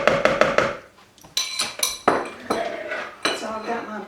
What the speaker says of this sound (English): I'm going to be beating my white sugar and my butter together until it's creamy